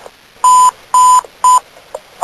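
A fire alarm sounds at a three-alarm building fire in Boston: three loud, evenly spaced electronic beeps, each about a quarter second long, with a fainter tone trailing after.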